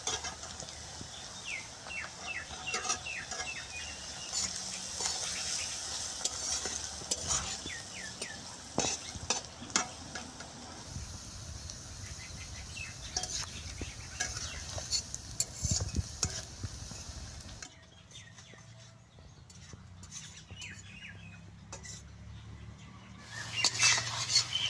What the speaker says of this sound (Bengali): পেঁয়াজ আদাটা রসুনটা ভাজা হয়েছে